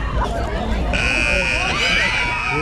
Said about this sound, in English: So I'm just waiting for the buzzer to sound and the waves to start.